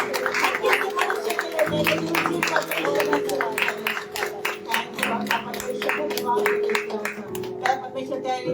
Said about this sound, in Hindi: ईश्वर तेरे उपस्थिति के लिए जोर से ताली बजाएंगे।